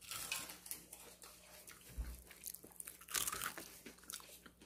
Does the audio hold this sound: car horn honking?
no